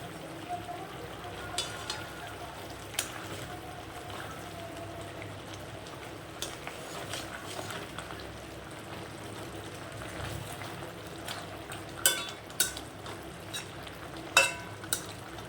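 Pabda fish going into a simmering mustard gravy, with a soft, steady bubbling sizzle and a few sharp clinks and taps of a utensil against the pan, faint and close, mostly alone with a little background voice.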